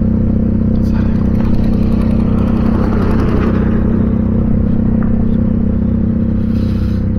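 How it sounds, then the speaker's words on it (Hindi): A Bajaj Dominar motorcycle with a broken silencer runs close by with a harsh, rattling, clattering exhaust note like an auto-rickshaw, loud and continuous throughout. "तो बाइक में से ऐसी आवाज आ रही है जैसे मैं ऑटो चला रहा हूं"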